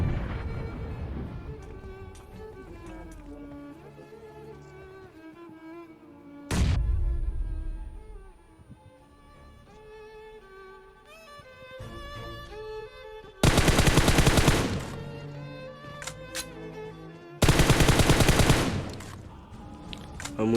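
Automatic gunfire in a PUBG classic match, with long bursts of rapid shots over game music and effects, two especially loud, dense volleys standing out near the end.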